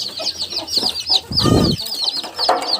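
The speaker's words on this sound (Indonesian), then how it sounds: "ayamnya juga besar-besar banget nih" Large chickens clucking as they feed, several birds chattering close by in short overlapping calls, with a brief burst of louder low rustling midway through.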